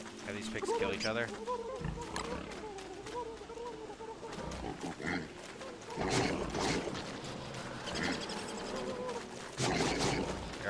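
Pigs fighting and attacking one another in the Don't Starve video game, with grunts, squeals and game effects clashing continuously while someone talks over them.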